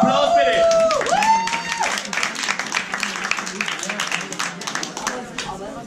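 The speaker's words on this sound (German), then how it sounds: "Noch einen Applaus für dich." Audience clapping for a poet at a poetry slam in the Rainbow venue, dense and lively applause with a whoop or voice rising over it at the start, then fading into scattered claps.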